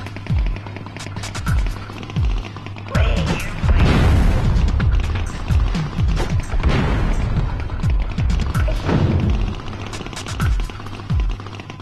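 Bomb blasts in the video game Oddworld: Abe's Exoddus, several loud booming explosions with crashing debris and rattling mechanical noise, bursting repeatedly over a low steady hum.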